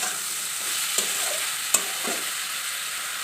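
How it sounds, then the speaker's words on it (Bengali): Thinly sliced ridge gourd fries in a pan with lotachim, giving a steady bright sizzle broken by a couple of sharp spatula clinks as it is stirred. "এখন দিয়ে দিচ্ছি কেটে রাখা ঝিঙ্গে।"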